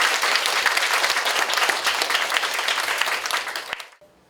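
Warm applause from a school audience welcoming the principal at a human-library concert in Suncheon, a thick burst of clapping that fades out abruptly at the end into near silence.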